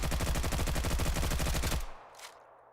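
A Barska 5.56 rifle firing in the game Stalcraft: one loud, fast automatic burst of evenly spaced shots lasts almost two seconds, then cuts off sharply and leaves a faint tail.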